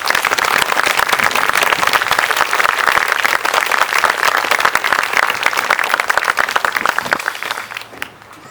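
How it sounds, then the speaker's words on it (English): Audience at a WWII reenactment show claps steadily for about seven seconds, a dense, loud wash of applause that thins out toward the end. "How about giving them a round of applause?"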